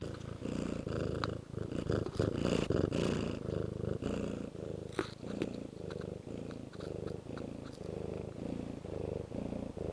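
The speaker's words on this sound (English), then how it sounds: "She's purring." A cat purrs close up in a rhythmic, low rumbling cycle, each breath pulsing steadily for several seconds with faint handling noises.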